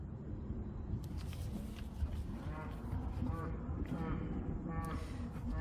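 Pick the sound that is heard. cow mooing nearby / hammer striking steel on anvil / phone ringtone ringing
cow mooing nearby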